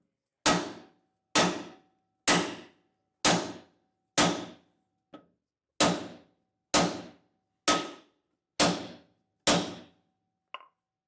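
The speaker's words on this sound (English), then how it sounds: "So I'll just take a hammer and give it a few good whacks." Close, loud hammer strikes drive a leaf spring suspension bracket into place on a 2024 vehicle: about ten sharp metallic whacks in a steady rhythm, with one lighter tap partway through and another at the end.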